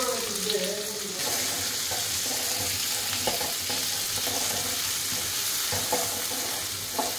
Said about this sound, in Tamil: கல்லுப்பு, தக்காளி வதக்கிறதுக்காக போடுறது.